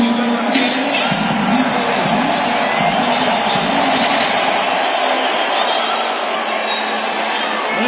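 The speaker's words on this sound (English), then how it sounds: "There's a reception from the American crowd" Large American boxing arena crowd at Fury vs Wilder III cheering and roaring steadily as Wilder walks to the ring, a dense, continuous wash of noise.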